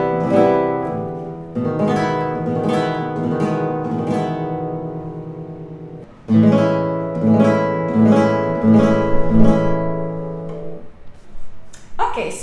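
A flamenco guitar rings out major seventh chords, strummed and rolled in bright repeated rasgueado-like attacks, two sustained passages split by a brief pause, close and clear with no talking.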